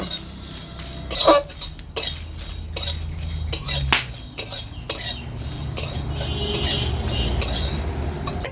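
Whole cumin, coriander, fennel and cardamom dry-roast in a pan, heard as repeated metallic clinks and scrapes of a spoon against the vessel over a soft background crackle.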